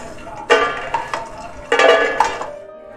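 A metal spoon scrapes and clinks against a pan while roasted fox nuts (makhana) are scooped out in a home kitchen, two clusters of rattling, ringing strikes, close and fairly loud, with no talking.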